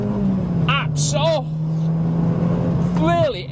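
A Renaultsport car engine drones and pulls steadily under loud talking, its pitch holding a low even hum as the vehicle accelerates.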